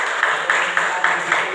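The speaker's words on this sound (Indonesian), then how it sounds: "Tepuk tangan." Students in a classroom clap together in a quick, steady rhythm, a short burst of group applause with about five evenly spaced accents, and no one speaking over it.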